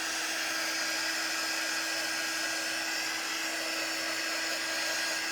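A dryer blows steadily on a craft project, a constant close whirring hiss that holds for the whole span with no talk.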